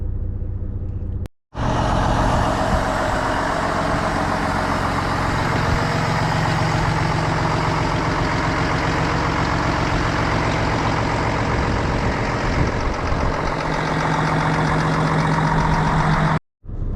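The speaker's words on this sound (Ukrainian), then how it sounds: "прогріваємо двигун і в дорогу" A truck engine idling as it warms up before a night drive, a steady mid-pitched rumble holding even and loud for most of the stretch, with brief breaks at start and end.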